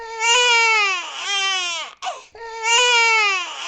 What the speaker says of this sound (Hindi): तभी अंदर से बच्चे के रोने की आवाज आती है।